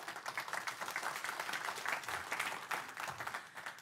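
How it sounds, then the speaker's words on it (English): Steady applause from attendees at a council meeting, sustained and fairly even across the whole stretch with no voices over it. "Please give her a round of applause."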